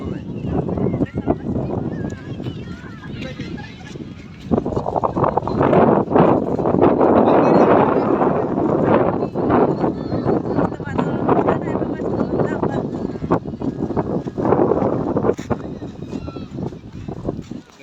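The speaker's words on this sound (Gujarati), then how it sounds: "મસ્ત પવન આવી રહ્યો છે જોરદાર" Strong wind gusts buffet the microphone on the Umarsadi bridge near the seashore in Valsad, a loud, continuous roaring rush that swells in the middle, with people talking over it.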